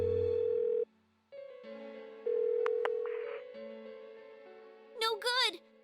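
Electronic phone tones from a call in Persona 4 Golden: steady tonal beeps in separate segments, then a short warbling ring near the end, with quiet background music.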